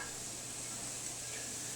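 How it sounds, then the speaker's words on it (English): Soft, steady sizzling of sausage frying in a hot skillet, a faint even hiss throughout with no voices. "You can hear it begin to sizzle."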